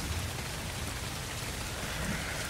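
Steady, dense rain falls in the video game ARK, a constant close hiss of rain on surfaces with a faint low rumble underneath and no talking.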